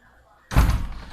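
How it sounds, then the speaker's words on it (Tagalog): An indoor door pushed shut at night, giving a single loud close thud after near silence, with a brief rattle trailing off. "Sara natin ang pinto."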